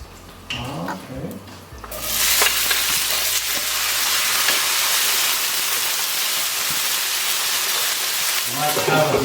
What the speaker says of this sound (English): See that the garlic is already frying